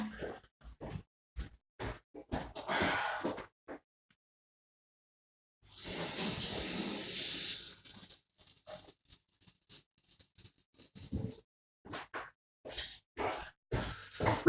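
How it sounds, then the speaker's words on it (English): Tap water runs steadily for about two seconds, a mid-loud hiss while someone rinses their mouth out after tasting beer, with faint rustles and movement around it. "I'm just going to go and rinse my mouth out"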